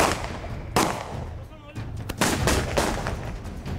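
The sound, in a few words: gunfire exchanged during a police raid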